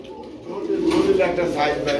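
Soft pigeon coos close by at a pigeon market, a low throaty call rising midway, with people talking alongside.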